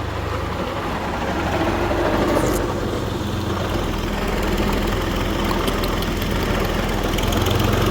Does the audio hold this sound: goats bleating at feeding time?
no